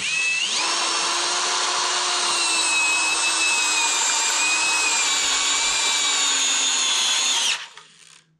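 A Parkside Performance PSBSAP 20-Li A1 brushless impact driver drives a screw in one continuous high-pitched whirring run of about seven seconds, close and loud, before it stops abruptly.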